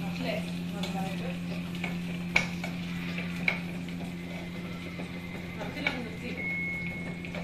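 Raisins frying in hot oil for chicken biryani, a steady low sizzle with a few sharp clinks of a spoon against the pan, while a voice talks over the cooking.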